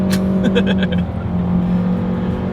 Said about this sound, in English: Sounds like a CVT.